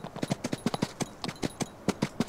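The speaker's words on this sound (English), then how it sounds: "Good galloping sounds as well" A ridden horse in the Farming Simulator 19 game gallops with quick, crisp hoofbeats grouped in uneven bursts, close and clear, with no voices over them.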